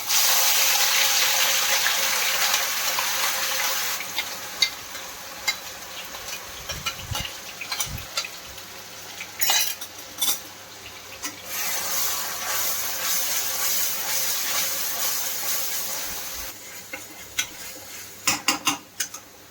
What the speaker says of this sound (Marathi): तेल गरम झालंय, छान चांगलं तापू द्यायचं आहे। सगळ्यात पहिले आपण प्युरी टाकूया।